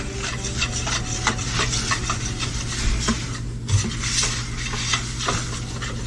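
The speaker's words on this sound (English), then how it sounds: "So now you start whisking." A mixture of milk and strained ingredients is whisked in a bowl, brisk repeated scraping and tapping strokes continuing steadily and close up.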